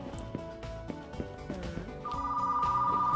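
A telephone rings inside a retro video store in a video game, a steady electronic trill that enters partway through over background game music and stays loud to the end.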